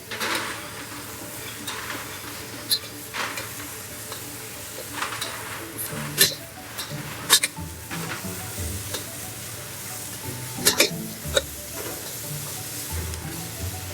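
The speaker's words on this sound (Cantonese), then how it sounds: "好，隨即我哋落埋啲西芹。" Fresh abalone and celery stir-fried raw in a wok over high heat, with a steady close sizzle and a loud, irregular clatter of the spatula scraping and tossing against the metal throughout.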